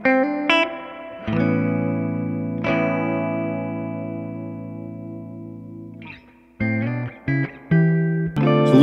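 Distorted electric guitar on a Fender American Professional II, captured by a condenser mic placed at the centre of the amp's speaker cone: a few picked notes, then a long sustained chord ringing out, and a choppy run of chords to finish, loud and close.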